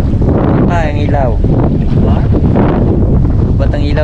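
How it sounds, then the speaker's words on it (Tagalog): Strong, steady storm wind roars and buffets throughout during a typhoon under signal number 3 at night, with voices speaking over it. "Sa lakas ng hangin."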